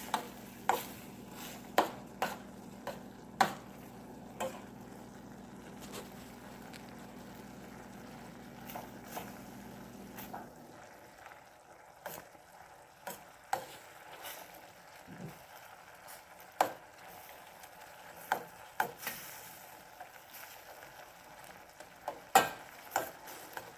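A spoon stirs a turmeric-seasoned Lion's Mane mushroom and Romanesco cauliflower dish in a pan, giving faint, irregular scraping taps over a soft sizzle, while a low background hum cuts out partway through.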